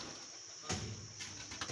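A released pigeon gives soft cooing and faint fluttering, brief and quiet against a low outdoor background hiss.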